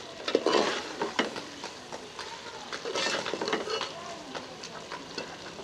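Kaddu chicken, pumpkin and chicken pieces, frying in a pan while a spoon stirs and scrapes in uneven bursts over a soft sizzle, fairly quiet and close.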